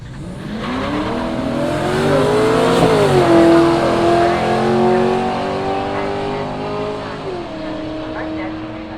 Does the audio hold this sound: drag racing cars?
yes